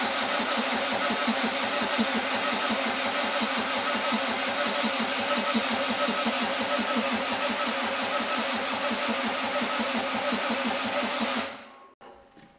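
An old, neglected portable welder's engine cranks steadily for about eleven seconds as it tries to start. The churning is loud and even, stops abruptly, then falls silent.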